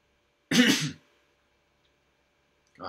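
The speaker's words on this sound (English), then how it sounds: "I keep coughing." A person gives a single sharp, close cough or throat clear lasting about half a second, then there is silence, and a second short burst starts at the very end.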